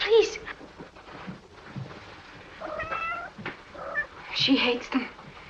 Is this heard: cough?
no